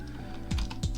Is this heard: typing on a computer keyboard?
yes